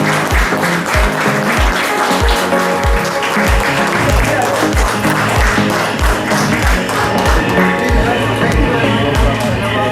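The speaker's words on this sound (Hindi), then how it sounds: "सभी खड़े होंगे, तालियां बजाकर हमारे मुख्य अतिथि का स्वागत करें" A standing audience applauds to welcome the chief guest at a World Pharmacists Day event, loud sustained clapping with rhythmic thumps and crowd babble running underneath.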